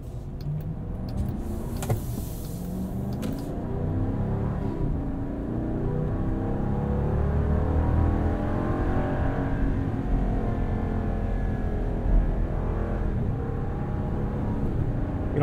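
A 6.4 liter Hemi V8 in a 2022 Jeep Grand Wagoneer Obsidian, heard from inside the cabin as a steady, deep engine drone that rises and falls while driving, continuous and moderately loud with no talking.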